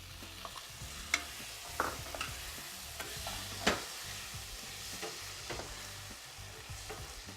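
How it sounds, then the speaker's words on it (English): White beans are tipped into a hot pan and stirred, giving a soft, quiet sizzle with scattered scrapes and clinks of the spoon, no voices. "And finally, in go the beans."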